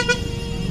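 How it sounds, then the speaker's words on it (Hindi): A Mercedes car horn sounds in traffic on a street, with a short, close, bright toot at the start, and engine rumble continuing underneath. "फिलहाल आप अपने जहाँ पे मर्सिडीज़ का हॉर्न चेक कर सकते हो भाई"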